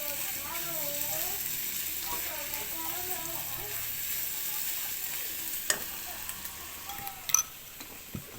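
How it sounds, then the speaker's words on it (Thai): Glass noodles stir-fried with pork in a pan give a soft, continuous sizzle, while someone talks over it early on and sharp clicks and taps of a utensil sound near the end. "ยายผัดเส้นให้เนี่ย"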